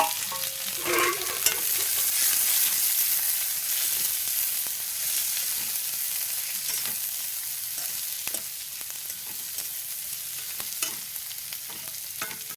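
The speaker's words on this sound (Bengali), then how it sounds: "এখন পেঁয়াজ আর লঙ্কাটা দিয়ে দেবো, একটু ভেজে নেবো।" Onion and green chilli fry in hot oil in a pan, a loud, continuous close sizzle with occasional crackles and a brief stir or clink near the start.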